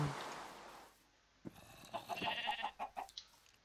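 Minecraft sheep and animal bleats in a video game, a quiet stretch followed by a cluster of short, repeated bleating calls close by.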